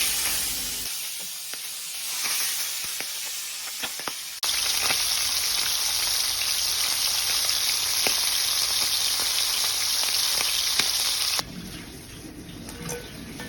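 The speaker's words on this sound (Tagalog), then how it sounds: "So ipapray natin yung bangus." Salted milkfish (bangus) frying in a pan: a steady, bright hiss and sizzle that jumps louder for several seconds as the fish goes in, then drops back to a quieter crackle.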